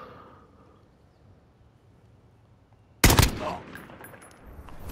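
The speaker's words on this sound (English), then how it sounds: "Did you just fucking shoot me" Sudden burst of gunfire in a Call of Duty match, a loud close volley breaking out of near silence and trailing into scattered follow-up shots.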